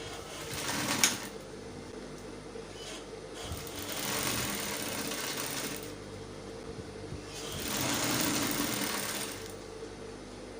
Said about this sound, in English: I'll bring the elastic that I measured 14 inches and I'll take it to the edge here